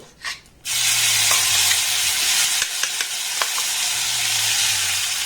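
Black mustard seeds frying without oil in a pan as a prepared mixture is added, bursting into a loud, steady sizzle with a few brief clinks and stirring scrapes, no talk.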